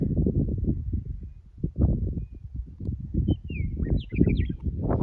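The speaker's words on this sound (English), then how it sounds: "Bird sounds." Faint wild bird calls and short whistled chirps sound in the distance over steady low rumbling noise outdoors, along a road on the Pacific Crest Trail in Southern California.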